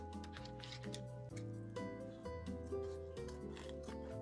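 Sharp scissors snip and rub through a wreath piece at close range, several quiet cutting and scraping strokes in an irregular rhythm over faint background tones.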